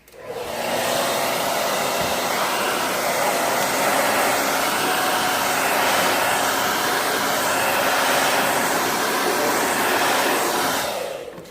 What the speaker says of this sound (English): You may have noticed the hairdryer kick up a notch.